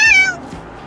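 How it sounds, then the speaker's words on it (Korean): A single short cat meow inside a Chevrolet Colorado 3.6L gasoline pickup, close and clear, fading quickly into a quiet background. "옆에 고양이 한 마리 태우고 있습니다."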